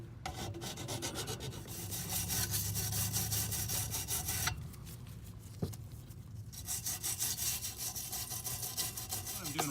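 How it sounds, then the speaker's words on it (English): A hand metal file rasps a burr off a repair part for a Lippert Waste Master, giving steady close scraping strokes with a brief pause partway through. "now we're just taking a bit of the burr off with the file here"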